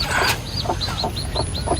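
A hen with newly hatched chicks: high, rising peeps repeat in a steady series close by, over soft low clucking and a continuous background hum.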